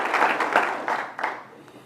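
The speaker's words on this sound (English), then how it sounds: "give her a round of applause" A short burst of applause at a city's State of the City address, a few rhythmic clusters of clapping that thin out and fade within two seconds, with no voices.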